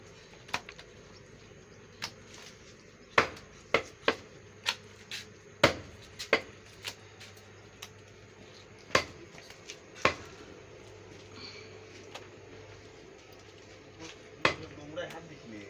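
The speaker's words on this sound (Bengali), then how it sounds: "এই যে সামনের রাং কাটা চলছে।" A butcher cleaves a black goat's front leg into pieces. Sharp, irregular chopping strikes land one after another over a low steady background hum, some close and loud, others softer.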